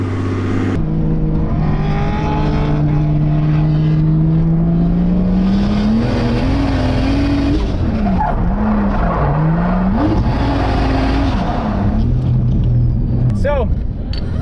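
A C6 Corvette drift car on a small go-kart course drones loudly and steadily, its engine pitch climbing and swooping as it revs and slides, with tire squeal near the end.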